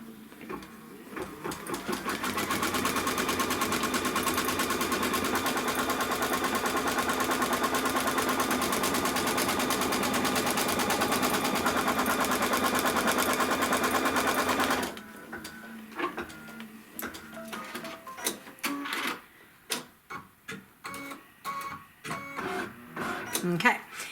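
A computerized embroidery machine stitches a placement line on a Kimberbell quilt block with a fast, steady mechanical whir for about fifteen seconds, then stops, leaving a few clicks and someone talking.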